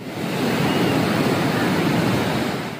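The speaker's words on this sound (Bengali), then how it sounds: "কক্সবাজারেও সাগর উত্তাল, তীরে আশ্রে পড়ছে বড় বড় ঢেউ।" Rough, cyclone-stirred sea waves crash onto the shore at Cox's Bazar, forming a continuous, loud roar of surf and rushing water with no pause.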